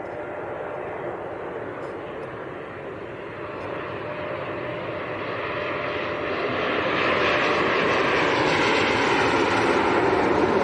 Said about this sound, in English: Embraer E190 from Amsterdam.